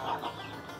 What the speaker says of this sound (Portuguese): Galinhas muito bacana.